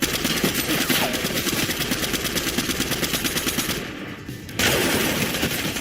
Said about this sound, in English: Look at that. Look at that SMG.